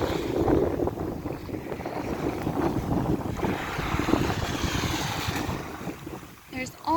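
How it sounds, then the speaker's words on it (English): Gusty wind buffets the microphone at the water's edge, a rough continuous rush with faint surf behind it, no speech heard. "the wind picked up a bit"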